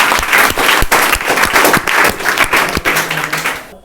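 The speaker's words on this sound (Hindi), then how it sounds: "चलिए जोरदार ताली मारिए सबको।" A classroom audience of students gives loud, dense applause at a teacher's talk, a thick wash of many hands clapping at once that fades out at the end.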